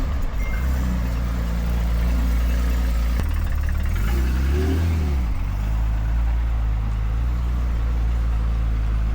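A Porsche 959 rolls in with a deep, steady engine rumble, near and loud, that swells briefly with a rev in the middle before settling back to a smooth idle-like drone.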